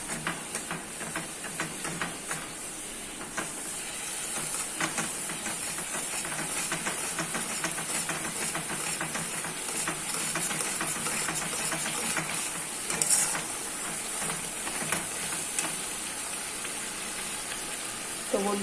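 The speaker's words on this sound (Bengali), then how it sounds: "এবার মশলাটা ভালো করে কষতে হবে।" Masala frying in a pan for a pomfret curry gives a steady close sizzle and hiss with faint scraping, lasting throughout without talk.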